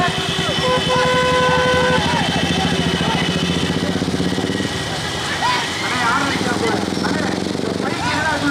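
Busy street noise at a bullock cart race in Kathakurichi, with a motorcycle engine passing nearby, horns tooting, and people talking over the traffic.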